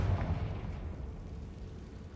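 A Confringo fire spell bursting in the video game Hogwarts Legacy: a deep, rumbling explosion right at the start that trails off into a fading low roar over about two seconds.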